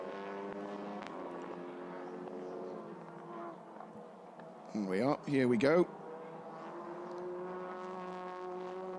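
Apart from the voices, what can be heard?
TCR touring race cars approaching turn 1 at Oschersleben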